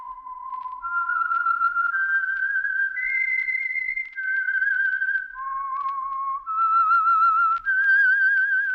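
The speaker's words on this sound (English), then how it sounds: "That whistle is your signal" A clear, solitary whistled melody, the 1947 radio theme of The Whistler, steps through a series of sustained pitches, each note held before moving to the next, with brief gaps between phrases.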